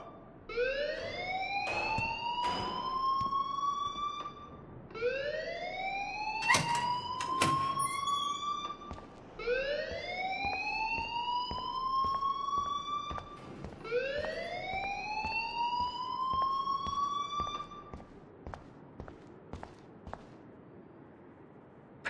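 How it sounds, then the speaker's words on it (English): A school fire alarm in Life is Strange wails in repeated rising electronic sweeps, four long cycles with harmonics, loud and steady, punctuated by sharp clicks and knocks, with no talking over it. "please turn off that alarm since that's your job"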